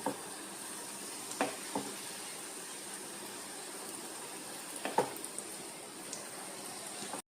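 Banana slices fry in a pan with a little caramelised sugar, giving a steady low sizzle with a few soft stirring clicks and scrapes near the start and middle.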